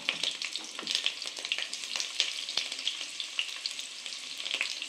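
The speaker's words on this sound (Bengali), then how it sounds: "কড়াই গরম করে এবার ছোট ছোট পাতলা পাতলা করে কেটে পেঁয়াজ দিয়ে দেবেন।" Thinly sliced onions frying in oil in a wok, a close, crackling sizzle with scattered pops and stirring scrapes, steady throughout without voices.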